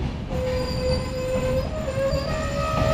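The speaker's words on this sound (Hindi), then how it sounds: "पैरेलल में बगल वाले प्लेटफॉर्म में एक ट्रेन आई है जो कि जयनगर से आ रही है" A passenger train from Jaynagar pulls into the adjacent platform at Bihta railway station in Bihar, its wheels letting out a loud, sustained metallic squeal with steady rumbling underneath.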